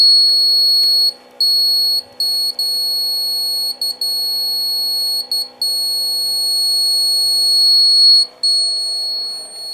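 A high-pitched electronic high-level alarm buzzer beeps repeatedly in an uneven on-off pattern over a steady mechanical hum.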